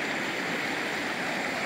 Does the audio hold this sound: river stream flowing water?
yes